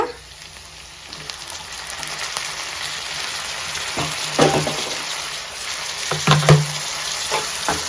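Onions and tomato frying in a pan for crab masala, a continuous soft sizzle close by, broken by several louder scrapes and stirs of a spoon against the pan.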